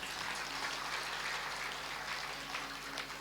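Steady applause welcoming a speaker at an Arya Samaj gathering in Vikram Nagar: dense, even clapping throughout, moderately distant, with no pauses.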